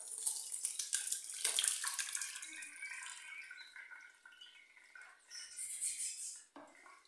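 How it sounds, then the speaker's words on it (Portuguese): Whey draining and splashing from homemade curd cheese being strained, a continuous close trickle of liquid that swells and fades, with faint clinks. "Escorrer esse soro."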